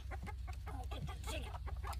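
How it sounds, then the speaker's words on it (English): Hens cluck and squawk in a busy jumble over a steady low rumble, several birds calling close by as they are pulled from a cage. "Look at Kim down in the cage, pulling the chickens out"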